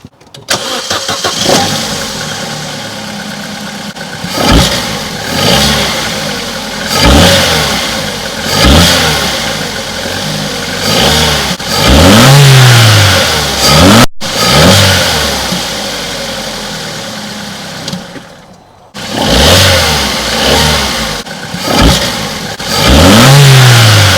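A loud Vauxhall Corsa engine fitted with a ram air induction kit revs repeatedly, rising and falling in sharp bursts with brief pauses between, recorded up close and free of talk.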